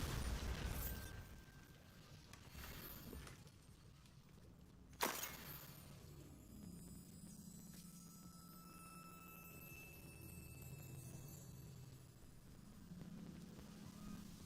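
A Bombarda blast spell going off in the Hogwarts Legacy video game, heard as one sharp, loud burst near the middle with a rumbling tail, set against steady game ambience and low droning.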